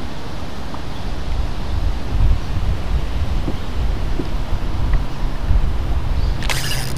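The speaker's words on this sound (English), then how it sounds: "the trees tell me there's still quite a bit of wind" Strong lakeside wind, around 35 km/h, blowing through trees, a continuous loud broadband rush that also buffets the microphone, with a sharp brief noise near the end.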